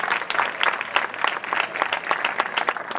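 At an evening concert an audience applauds the percussionist, a dense, lively crackle of many hands clapping steadily throughout, moderately loud, with no one talking.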